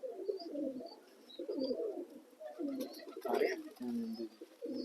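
A racing pigeon in Jammu Kashmir coos in low, throaty bursts again and again, close by and fairly quiet, while a person says a brief word in the background.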